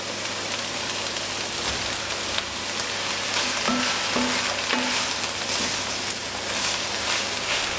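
Courgette frying in a hot pan, a loud continuous close crackling sizzle with scattered pops and a few faint scraping touches.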